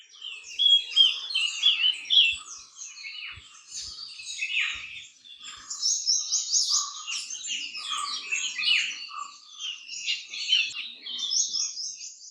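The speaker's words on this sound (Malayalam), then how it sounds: "ഇത് നമ്മുടെ സ്വന്തം തീ കുരുവി. തീയാണ് കുരുവികൾ, അതായത് മിനിവെറ്റ്" Minivets call in Munnar's high-range tea estates in the Western Ghats, with repeated high, thin chirps and twittering notes, clear and fairly close, continuing throughout with no talk.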